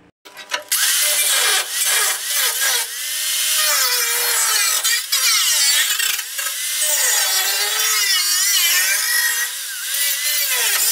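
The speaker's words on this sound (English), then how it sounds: "I'm going to cut along these two lines till the crease" Sheet metal being cut on a 1972 Toyota Celica, a loud harsh cutting tool screeching and grinding continuously with wavering pitch and brief pauses, close up and without speech.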